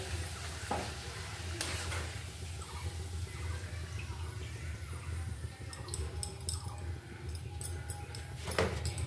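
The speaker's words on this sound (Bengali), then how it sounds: "যেহেতু তেলটা বেশি আছে তাই ভালো করে পাঁপড়গুলো ভাজা হয়ে যাবে।" Papads fry in a generous amount of hot oil with a faint, bubbling sizzle. A few sharp clicks and clatters break in now and then, fairly quiet overall.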